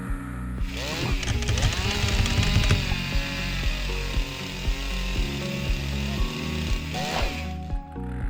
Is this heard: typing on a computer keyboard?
no